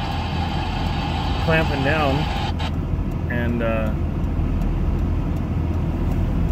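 A car taken to exhibition events is driven on the road, its engine giving a steady, loud, low rumble throughout while someone talks over it.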